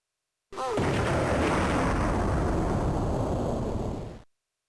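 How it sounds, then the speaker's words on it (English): A loud, sustained video game explosion erupts suddenly, a dense roaring rumble with crackling debris that holds for several seconds before cutting off. "have a look at these explosions. They're beautiful."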